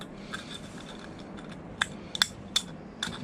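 Several crisp metallic snips from scissors cutting metal for a penny stove, irregular and close, over a quiet background hum.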